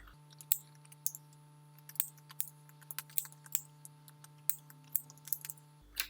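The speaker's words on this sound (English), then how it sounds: "once you've cut along one arm of the maker, go around the other half" Sharp scissors snipping through yarn wound around a pom-pom maker, producing irregular crisp clicks and snips close by over a faint steady hum.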